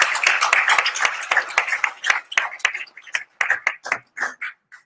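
Applause at a municipal council session in Saint-Josse, with a small group clapping unevenly, the claps thinning into scattered individual claps.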